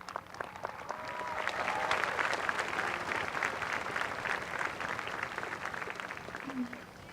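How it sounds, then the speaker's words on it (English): Graduation audience at a high school ceremony claps in a dense, sustained round of applause, rising quickly and holding steady for several seconds before easing off, with some crowd voices mixed in. "Give yourselves a round of applause."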